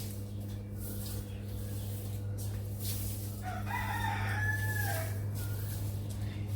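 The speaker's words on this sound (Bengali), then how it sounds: "সকাল হলে এই মোরগ ডাকার দেখেন" A rooster crows once at a moderate distance in the morning, a rising and falling call over a steady low hum and background noise.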